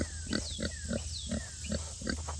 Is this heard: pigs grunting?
yes